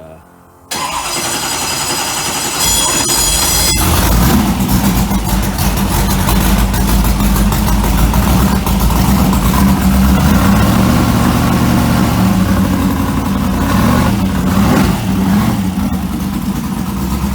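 A racecar engine starts and runs steadily while warming up in neutral, a loud, continuous close-up rumble with slight revving swells throughout.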